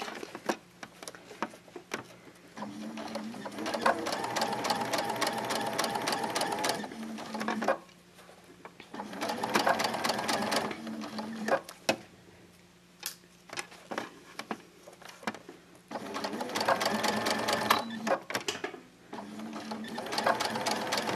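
A sewing machine stitches an invisible zipper into fabric, running in several steady bursts of rapid mechanical needle clatter separated by short pauses, close and clear with no talking.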